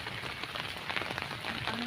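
Rain falling in an outdoor garden maze, a faint, steady hiss of drops pattering on surfaces with soft irregular taps, heard alone without talk.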